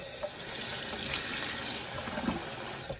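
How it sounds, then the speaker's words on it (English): Very warm water runs in a steady continuous stream for about three seconds while tomato seeds are prepared for germination, a close hissing pour with no talk. "So take some very warm water"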